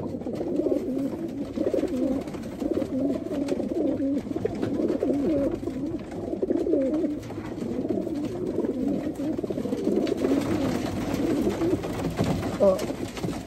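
Continuous soft cooing from several racing pigeons at a one-loft race, overlapping low throaty calls throughout, with faint voices mixed underneath.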